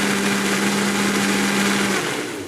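A kitchen blender runs loud and close while churning coconut and nut yogurt; its steady whine holds, then the motor winds down near the end as the speed is lowered.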